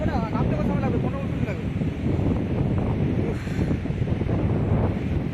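Strong wind gusts over an exposed outdoor spot during a walk, roaring steadily and buffeting the microphone without a break, with a voice briefly audible near the start.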